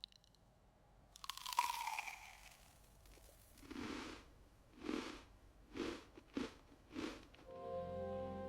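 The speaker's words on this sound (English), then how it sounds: "Hear the crunch." Crunchy food bitten and chewed close to the mic, starting with a rustling swish, then a series of distinct crisp crunches at a steady, spaced rhythm in a quiet setting.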